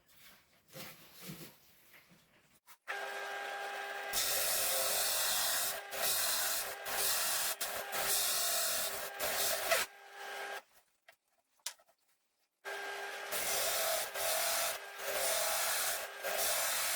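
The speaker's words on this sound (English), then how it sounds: "these things need a lot of sanding afterwards" Hand sanding of wooden pieces freshly cut with a saw for a homemade birthday calendar, long continuous rasping strokes in bursts separated by short pauses, close and fairly loud.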